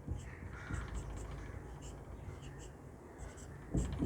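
Someone writes out a geometry theorem by hand, producing a continuous soft scratching with short, irregular strokes at close range.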